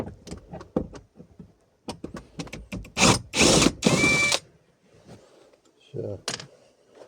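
A cordless screwdriver with a long bit whirs in a couple of strong bursts while backing out a glovebox screw on a Lada Niva 21214 during a heater fan replacement, with softer knocks and handling noises around it.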